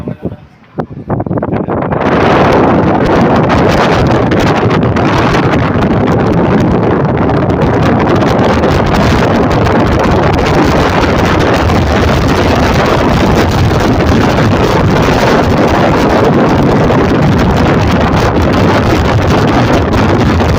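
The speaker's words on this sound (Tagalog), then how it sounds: "Ang lakas ng hangin." Strong wind roars steadily into the microphone, loud and buffeting throughout, after a brief quieter start.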